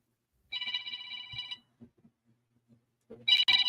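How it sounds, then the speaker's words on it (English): A phone rings in two bursts, the first lasting about a second and the second starting near the end, with faint soft knocks in the quiet gap between them. "oh, sorry, my phone."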